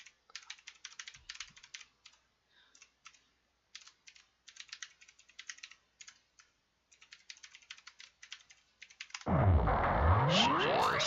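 Rapid clicking keystrokes on a computer keyboard as a login ID and password are typed in quick bursts with short pauses, close and clear, then a louder unrelated sound takes over near the end.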